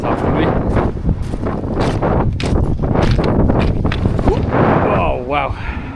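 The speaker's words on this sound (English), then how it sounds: "Oh, it's windy." Strong gusting wind on the summit of Croagh Patrick batters the microphone in loud rumbling bursts, mixed with voices talking throughout.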